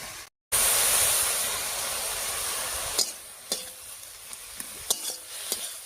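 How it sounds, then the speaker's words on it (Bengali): Tender mustard greens stir-fried in a pan with salt, starting as a loud, hissing sizzle that settles into a softer crackle, with several sharp spatula scrapes and taps on the pan toward the end. "এবার দিয়ে দিচ্ছি লবণ।"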